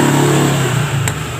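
A Honda Beat FI motorbike engine with a rough, knocking sound revs close and loud in a short, steady burst, with a faint rattle underneath.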